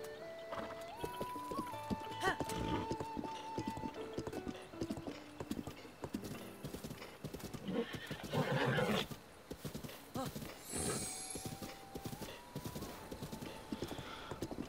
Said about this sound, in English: this horse is kind of like still acting up a bit because I like just got it